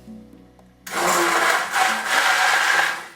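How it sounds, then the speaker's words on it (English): Onions being liquefied in a blender for cheese onion soup: after a quiet start the motor kicks on abruptly and whirs loudly and steadily, its pitch wavering slightly as the contents churn. "we are going to liquefy the onions"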